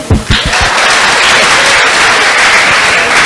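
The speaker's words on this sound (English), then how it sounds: "I need you to clap again" An audience at a community centre monthly meeting claps loudly and densely, a few sharp separate claps at the start swelling straight into sustained, even applause that fills the space.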